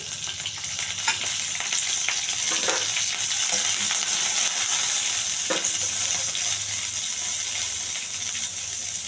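Curry leaves sizzling in a little oil for a tempering: a loud, steady crackling hiss that runs throughout, with a few faint clicks and scrapes of stirring.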